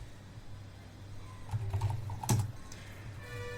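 A few light key taps on a computer keyboard, faint and close, with a couple of slightly louder clicks in the middle over a quiet background hum.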